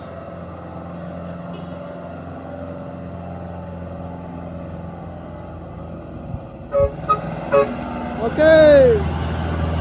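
Hino truck carrying a 15-ton load, its engine droning steadily as it climbs a steep grade, joined near the end by a few short honks and a longer horn blast, with someone speaking briefly.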